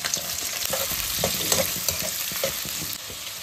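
Green chillies and sliced onion fry in hot oil in a pan, giving a steady close sizzle and crackle with intermittent scraping stir strokes. No one talks.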